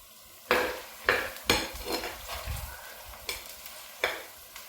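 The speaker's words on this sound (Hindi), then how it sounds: "घी गर्म हो गया, अब इसमें प्याज डालना है।" Onion dropped into hot ghee, with sharp clattering clinks of a spoon or pan at irregular intervals over a soft sizzle, close and clear with no speech.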